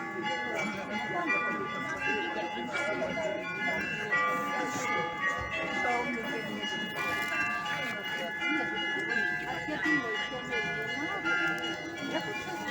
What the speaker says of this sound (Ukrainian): Ось так помовчу, послухаєте дзвони чернігівські